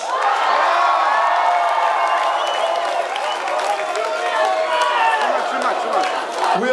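A concert crowd at a rock show in Warsaw cheers, whoops and applauds loudly and steadily, close and dense throughout.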